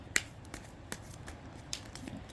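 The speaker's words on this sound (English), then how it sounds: "we shuffle" Tarot cards being shuffled by hand, a quiet series of soft snapping riffles and brushes spaced through a couple of seconds, close and faint with no talking.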